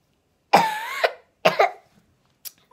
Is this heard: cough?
yes